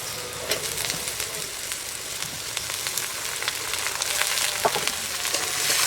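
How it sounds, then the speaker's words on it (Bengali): Potatoes frying with curry leaves and green chilies in a pan, a dense crackling sizzle with stirring scrapes that grows a little louder toward the end, close and free of speech. "আলুগুলো দিয়ে ভালো করে নেড়ে চেড়ে ভেজে নেব।"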